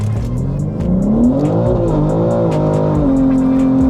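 A BMW M3 engine revs hard, pitch climbing and falling through several loud, close throttle blips over steady exhaust rumble, with no talk.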